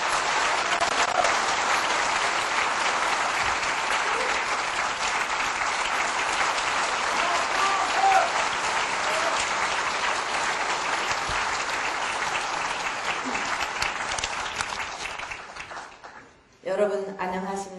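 Sustained, loud applause from an indoor audience welcoming someone at a civic group's anniversary lecture, steady clapping for about sixteen seconds before it fades and a voice begins speaking.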